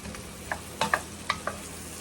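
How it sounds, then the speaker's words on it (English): Onions and mixed vegetables cook down in a soup pot, giving a soft, steady sizzle broken by a few light clinks and scrapes from stirring. The sounds are close, and nobody speaks. "We're going to cook these down for about 3 or 4 minutes until the veggies, the onions and everything are starting to soften up."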